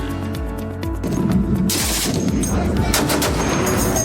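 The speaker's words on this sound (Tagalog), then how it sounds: "Umalingaw-ngaw ang sunod-sunod na putok ng mga baril sa dagat mula sa apat na barko" Rapid bursts of heavy machine gun fire from four naval ships rattle out loudly in quick succession, echoing across open sea.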